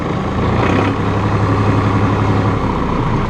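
A Massey Ferguson 2605H two-wheel-drive utility tractor runs close by, its diesel engine a steady, heavy low rumble with no break, heard on its own.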